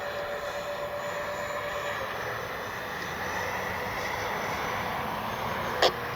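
Twin-engine RC MiG-29 jet model with twin 64 mm ducted fans on landing approach, gear and flaps down, giving a steady, fairly distant whine and rush of air that holds a constant level throughout.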